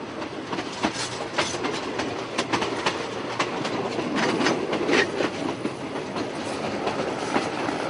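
A train runs steadily along its rails, the wheels giving a continuous rumble with repeated clickety-clack beats, recorded from close by with no voices.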